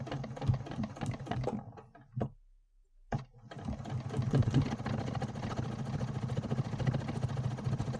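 Domestic sewing machine stitching a hexagon quilt block, running in a steady mechanical whir that pauses briefly for about a second midway, then resumes at a slower, careful pace close by.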